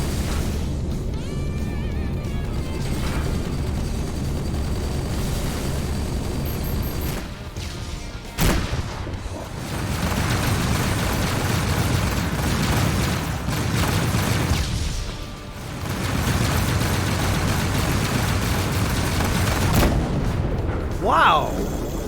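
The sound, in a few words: spaceship turrets firing in video game Rebel Galaxy Outlaw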